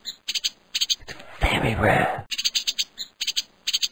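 A yellowfinch warbler in a cartoon gives a burst of bright, rapid chirping notes in short repeated clusters, broken by a louder raspy squawk in the middle, with a brief spoken word.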